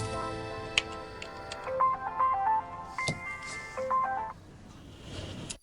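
A phone rings for an incoming call with a melodic electronic ringtone of stepping tones, fairly close, over faint background noise that ends in a soft rustle.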